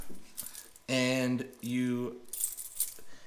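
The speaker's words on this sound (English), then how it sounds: "to take off your bag, you grab your keys" Keys jangle as they are grabbed to remove a BRP LinQ lock mounted on a machine, two brief bright metallic bursts close by, with someone talking around them.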